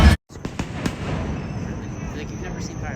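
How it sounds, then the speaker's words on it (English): Fireworks bursting outdoors at an end-of-summer gathering, a loud opening blast followed by a short gap, then several sharp pops and crackles over a continuous rumbling wash of distant explosions, with faint voices in the background. "I think this was the first fireworks I ever saw"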